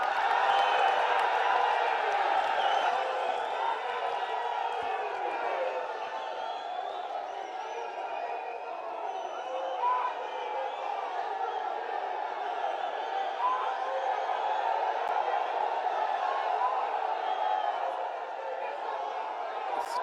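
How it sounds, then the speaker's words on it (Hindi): A large crowd at an INDIA alliance political rally cheers and claps to welcome Rahul Gandhi, a sustained distant roar of voices and applause that stays fairly even throughout. "जोरदार तालियों से सब साथी स्वागत करेंगे माननीय राहुल गांधी जी का"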